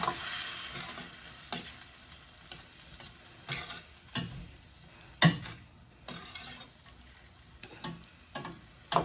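Sauce poured into a hot pan sets off a sizzling hiss, followed by repeated sharp stirring scrapes and clinks against the pan at an uneven rhythm, close by.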